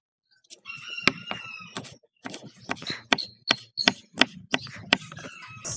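A knife finely chops three green chillies on a board, with a quick run of sharp, irregular taps and short pauses, close and clear with no talking.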